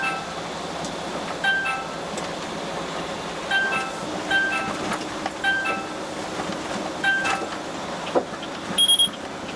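Short electronic beeps from a Topsync M900UHD dashcam's forward-vehicle departure warning repeat several times inside a moving truck cab, sharp and fairly clear over steady road and engine rumble.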